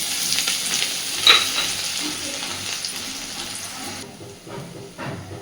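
Crushed garlic and dried red chillies fry in hot oil for a potato and eggplant fish curry, with a strong steady sizzle, a bright metallic clink early on, and the hiss settling slightly toward the end.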